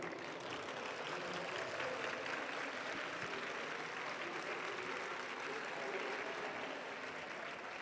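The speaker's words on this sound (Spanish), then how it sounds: "otro aplauso muy fuerte" Audience applause at an academy talk on autism, a steady even wash of clapping that holds at one level throughout with no clear voices over it.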